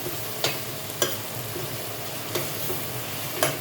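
Shredded chicken stir-fried with rice in a hot pan for Szechuan fried rice, a steady sizzle broken by a few sharp scrape-and-toss clicks of a spatula, close and alone without voices.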